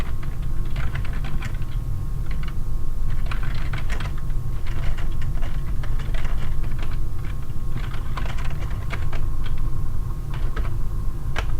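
Rapid, steady typing of code on a computer keyboard, dense overlapping keystrokes clattering continuously and close-up with no voices.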